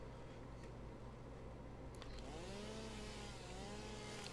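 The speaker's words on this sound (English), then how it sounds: "I gotta have the chainsaw. Look what it does." A chainsaw in the video game Satisfactory clearing an area, heard faintly at first, then revving into a wavering, rising and falling buzz partway through.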